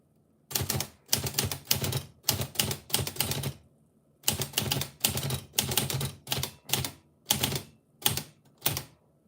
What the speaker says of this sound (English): to see good old typewriter, old technology is always interested me